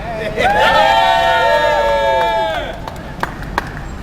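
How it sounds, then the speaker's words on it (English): An outdoor healthcare protest crowd in the rain cheers and whoops loudly with sustained voices for about two seconds, then the noise fades to scattered sharp claps and murmuring. "everybody should give themselves a round of applause for coming out in the rain"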